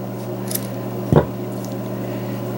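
A single crisp snip of scissors cutting through yarn while making a spawning mop for aquarium fish such as killifish, corydoras and tetras, one short close cut over a steady low hum.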